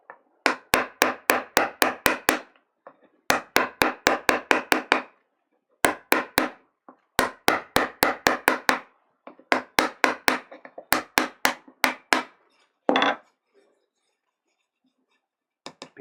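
A mallet strikes a woodblock for Japanese printmaking in quick bursts of sharp, close knocks, several runs of rapid blows separated by short pauses, with a scrape near the end.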